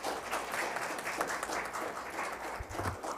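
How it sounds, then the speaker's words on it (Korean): Audience applause at a National Assembly policy forum on training physician-scientists, welcoming the health and welfare committee chair to the podium; steady, fairly faint clapping throughout with a low hum. "큰 박수로 환영해 주시기 바랍니다."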